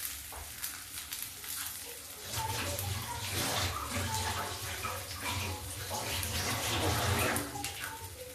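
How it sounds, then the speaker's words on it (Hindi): A kitchen tap runs steadily while someone washes their hands, giving a continuous close rush of water that fills the whole stretch, with faint cooking sounds beneath. "तब तक मैं हाथ धोती हूँ।"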